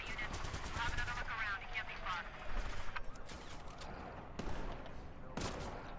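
Gunfire in Watch Dogs 2 during a gang shootout, rapid bursts of shots cracking close and loud in clusters, with someone talking over part of it.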